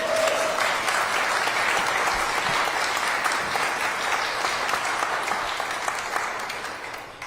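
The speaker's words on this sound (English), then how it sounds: "And I will solicit a round of applause when I just announced that." An audience applauds at a mayor's 2026 budget speech on public safety, a steady dense wash of clapping from a full room that holds for several seconds and eases slightly toward the end, with no speech over it.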